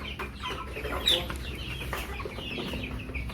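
Farm chickens cluck around feeding time, several birds near and far producing overlapping clucks over a low background rumble.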